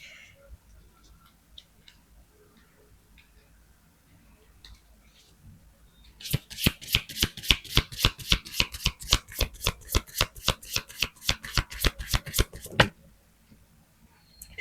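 Oracle cards shuffled by hand: a fast, even run of crisp slaps and riffles lasting about six seconds after a quiet start, close and fairly loud, then stopping abruptly.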